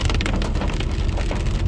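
Heavy rain pours steadily along the Tapah-Cameron Highlands mountain road, a dense, loud, continuous hiss of drops hitting surfaces with no voices.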